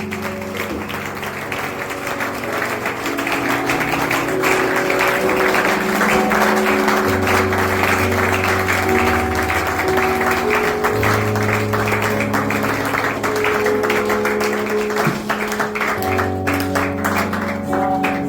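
Church congregation at a pastor's ordination service clapping in dense, sustained applause with musical accompaniment underneath, steady and loud throughout.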